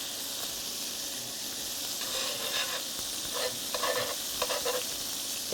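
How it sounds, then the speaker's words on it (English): Meat fries in a pan with a constant bright sizzle, and louder crackling bursts come and go as it is stirred. Close and steady, with no voices. "the meat will probably add a bit extra fat into the pan as well as it keeps like frying up"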